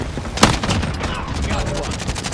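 Dense video game gunfire with rapid bursts and single shots in a combat match, ongoing through the whole moment, with a sharp crack near the start and voices talking over the shooting.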